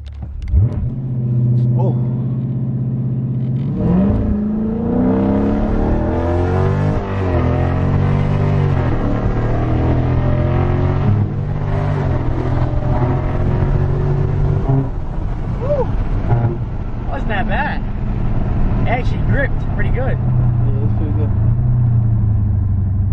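A Dodge Charger SRT roars through a launch-control start, its engine revving hard and climbing through the gears, loud and close throughout, with a person's brief exclamation over the engine noise.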